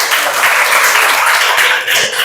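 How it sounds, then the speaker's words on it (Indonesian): Loud, steady applause from a group of participants at a classroom coaching session, a continuous close wash of clapping for presenters. "Tepuk tangan kelompok 1."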